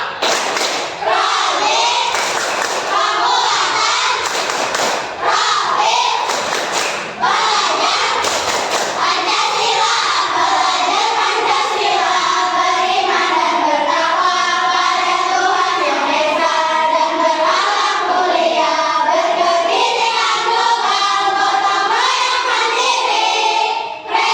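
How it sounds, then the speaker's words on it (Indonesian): A classroom of children performs a rhythmic clapping chant, sharp claps punctuating the opening seconds before the group voices chant together in unison, loud and close, with sing-song pitch patterns filling the rest. "kita tepuk kelima ya"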